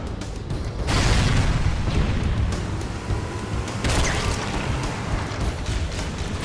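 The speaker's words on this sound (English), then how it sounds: "When it reaches 0, the engines will detonate." A ship's engines detonate in the Halo video game, a heavy booming roar that swells and rolls on, followed by a second rumbling surge, loud and continuous with no one talking.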